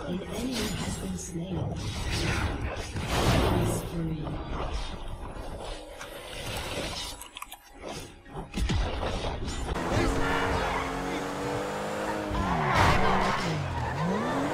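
A car drifts with screeching tires in a video game, a long wavering squeal and engine roar that rises and falls, mixed with voices talking loudly over it.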